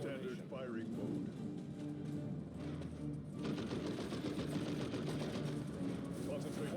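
Automatic gunfire from a Dawn of War 2: Chaos Rising battle, rapid continuous bursts over a dense bed of game effects and voices.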